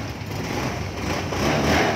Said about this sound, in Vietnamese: Đây bây giờ em sẽ thử nổ máy cho mọi người cùng xem.